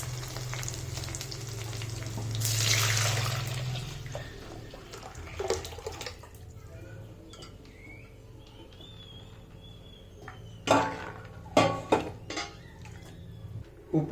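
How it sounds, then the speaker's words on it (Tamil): Dissolved horse gram rasam being poured into a hot spice tempering, a loud sizzling rush that fades to a low simmer, followed by sharp clinks of a utensil against the pot. "இப்போ நம்ம கரைச்சி வச்சுக்கிற கொள்ளு ரசத்தை சேர்த்துக்கலாம்."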